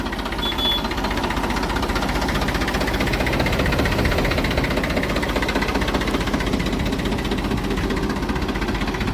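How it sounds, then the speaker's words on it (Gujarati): A New Holland 3230 tractor engine idles with a steady, rapid knocking chug, loud and close, running continuously without any voices. "આખું ઓરિજિનલ પાવરફુલ ટ્રેક્ટર છે"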